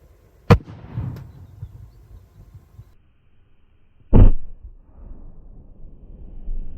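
A hydrogen-filled balloon is ignited and bursts with a sharp, near bang, preceded by a smaller pop and followed by fading rumble and quiet background noise.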